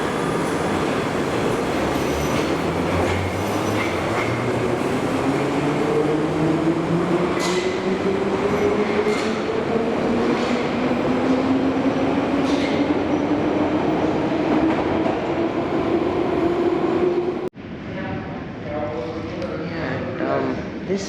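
A London Underground 6-car train pulls away from the platform at Manor House station, its motor whine climbing steadily in pitch over the rumble of wheels, with clicks on the track, before the sound cuts down sharply.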